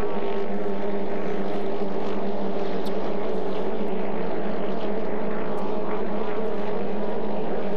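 2.5 litre hydroplane racing boats roar across the water at a 1990 regatta, a loud continuous engine drone with a strong buzzing tone that holds steady throughout, no commentary audible.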